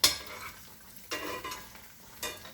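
Egg cooking in a pan for Southern cheese grits, with a soft sizzle under a few sharp scraping clicks of a utensil as it is flipped, quiet and close with no talking.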